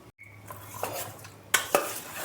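Chicken being stirred with masala in a metal bowl for marinating, a few soft wet mixing sounds punctuated by two sharp clinks of a spoon against the pot.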